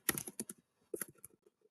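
Quiet bursts of typing on a computer keyboard, two short clusters of rapid key clicks at close range with no talk.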